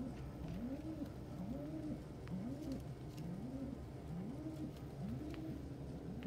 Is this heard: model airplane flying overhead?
no